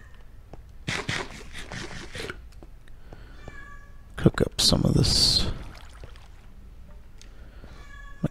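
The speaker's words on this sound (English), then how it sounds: "My cat's going crazy." A pet cat close by lets out one loud, drawn-out meow midway through, amid scattered shuffling and clicking noises and a person talking.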